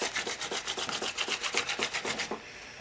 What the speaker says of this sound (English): I'm trying to drill each hole with a different drill bit